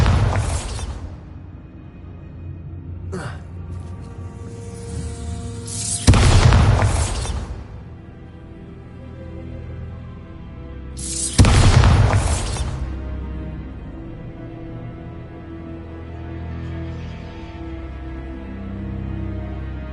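Bombarda spell explosions in Hogwarts Legacy: two loud booming blasts several seconds apart, each with a rumbling tail, plus a smaller crack early on, over quiet game ambience.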